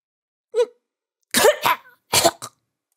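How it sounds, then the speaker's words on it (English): Wet, harsh coughing from a character coughing up blood in a Chaos;Head Noah visual novel game: one short cough, then two loud clustered bursts after a pause, close and isolated. "Orihara-san coughed up blood"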